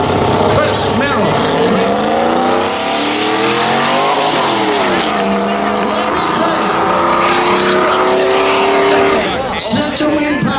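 A pickup truck launches hard in a spectator drag race at a dirt track, its engine loud and close, rising in a long revving roar through the gears, while other engines drone behind and commentary talk runs underneath.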